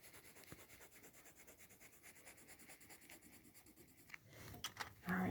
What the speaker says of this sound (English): And yes, I'm coloring outside the lines.